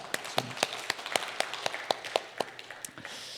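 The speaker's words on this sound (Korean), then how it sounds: "우리 박수 한번 쳐줘. 박수 한번." Sparse, crisp handclaps from a small audience at a talk, quiet and fairly close, beating in a quick, slightly uneven rhythm for a few seconds.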